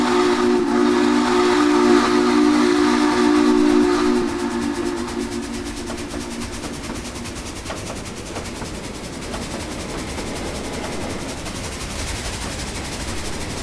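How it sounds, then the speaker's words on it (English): Steam whistle of a Texas & Pacific 2-8-2 locomotive in Trainz 2019, a loud sustained chord blowing for about four seconds, then fading into steady hissing steam and rolling train noise. "So that whistle that just thrills me to death. It sounds awesome."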